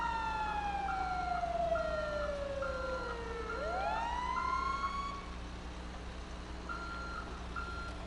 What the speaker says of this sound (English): turn on your lights and sirens